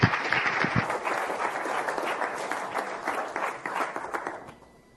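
Audience applause welcoming a speaker at a medical lecture on drug interactions, a dense steady clapping from a full room that holds for several seconds and then fades out near the end.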